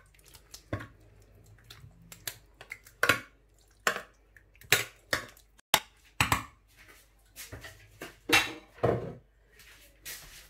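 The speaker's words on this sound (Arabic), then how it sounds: "غادي نغطي عليها بالفولي." Aluminium foil is pulled over a dish in the kitchen, giving a run of crinkling, tapping and pressing sounds in separate bursts, close and fairly quiet, with no talk.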